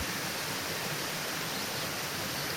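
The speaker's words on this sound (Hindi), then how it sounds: "पहाड़ों से बहता हुआ झरना है" Steady, dense rushing of a mountain waterfall, a constant broadband roar with no pauses and no voices.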